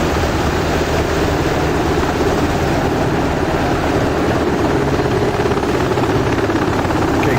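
An Apache AH-64D helicopter in the DCS World 2.8 video game gives a loud, constant rotor and engine drone with a steady rhythmic chop, filling the whole stretch with no voices.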